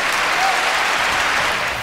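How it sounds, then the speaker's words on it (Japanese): Studio audience breaking into applause, a dense, even burst of clapping that holds at steady strength and fades slightly at the end. "拍手ありがとうございます。"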